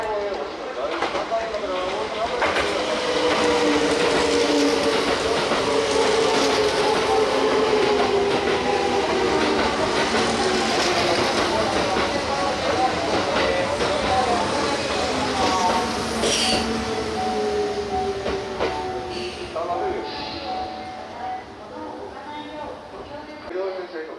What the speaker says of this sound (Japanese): 502列車、大阪上本町行き特急ビスタカーです。